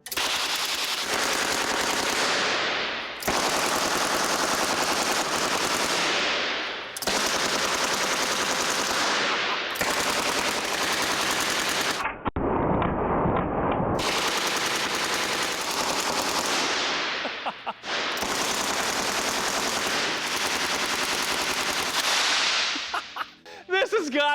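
Gas-fired prop machine guns mounted on the L.A.R.C. amphibious vehicle fire in long, loud, rapid bursts, separated by brief pauses, with a short lower rumbling stretch midway.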